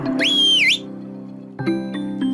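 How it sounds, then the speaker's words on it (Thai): An old jellyfish in a children's cartoon gives a loud, shrill whistle that sweeps up and dips over a sustained tonal background, followed by a few shorter accented notes. "จากนั้นแมงกะพรุนชราก็ผิวปากเสียงดัง"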